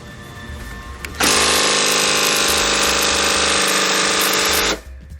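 A small lawn mower engine on a mowkart is cranked and bursts into a loud, harsh, steady buzzing run for about three and a half seconds before cutting off abruptly, heard up close in a quiet space.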